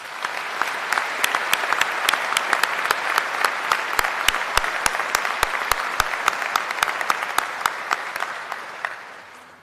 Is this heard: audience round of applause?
yes